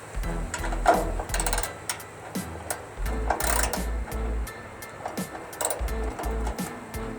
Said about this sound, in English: get the top bolt free. And we'll do that with a 15 millimeter socket.